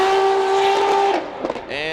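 A drift car at Formula Drift Long Beach, loud sustained engine note at high revs that drops and wavers, with tire noise, under a commentator's voice.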